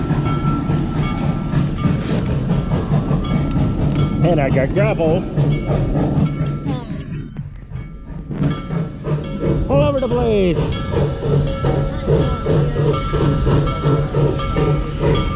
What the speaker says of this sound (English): And a train is coming by.